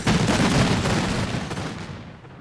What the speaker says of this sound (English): You can hear the men march, the drums beat, and some decent firing sounds now.